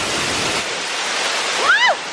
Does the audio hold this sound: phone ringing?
no